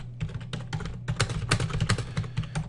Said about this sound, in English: simply click once on my screen and start typing my text.